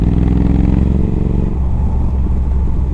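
A modded Triumph Thruxton R motorcycle with an X-pipe exhaust rumbles loud and close, a deep throbbing engine note that shifts and roughens partway through.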